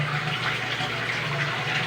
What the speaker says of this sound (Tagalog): Inaabot na siya ng oras dahil matagal siyang bumaba ang tubig.